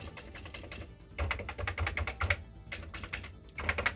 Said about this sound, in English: this keyboard here is the one that has the little rubber springy bits